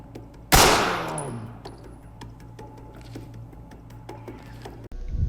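Gunfire in the tactical shooter Ready or Not: one loud, sharp shot rings out and decays into a lingering echo, followed by scattered faint clicks and clatter, with a brief muffled thump near the end.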